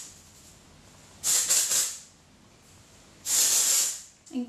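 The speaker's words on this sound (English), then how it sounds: "So I kind of just spray that all the way through" Two long hissing bursts of dry texturizing aerosol spray onto hair, close and fairly loud, separated by a short pause.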